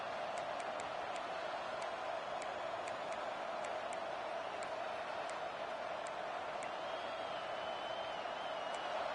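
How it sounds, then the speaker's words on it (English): Steady crowd roar from a football video game filling the whole clip, a dense, loud wash of cheering with faint ticking clicks scattered on top, no talk over it. "It's early, but this crowd is fired up. Listen to this noise here."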